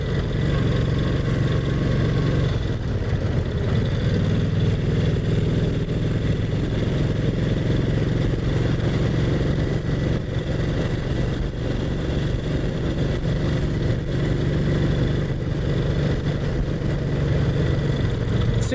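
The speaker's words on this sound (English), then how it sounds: "Great acceleration for a bike that's well over 80 years old." A vintage Brough Superior SS80 motorcycle engine pulls and accelerates on country lanes, a steady, loud mid-pitched drone running continuously with a slight rise in pitch, no voices present.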